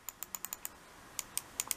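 Quick, crisp clicks of a PICTEK wired gaming mouse's buttons close by: a rapid run of six, a short pause, then a looser burst of about five more, with no talking.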